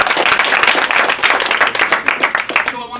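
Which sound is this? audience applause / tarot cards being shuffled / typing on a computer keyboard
audience applause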